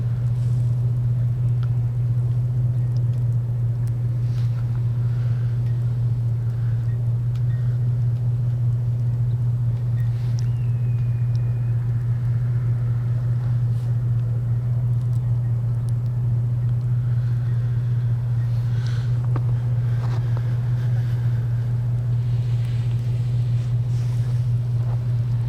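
Vehicles on a snow-covered road in Upstate SC during a winter storm, a constant low engine drone and wind rumble throughout, with faint scattered sounds and no talk.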